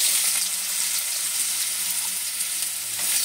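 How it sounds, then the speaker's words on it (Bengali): Carrot and capsicum sizzle in hot oil in a home kitchen, a steady close frying hiss with occasional stirring scrapes and no voices. "গাজরটা আর ক্যাপসিকামটা একটু হালকা করে ভেজে নেব"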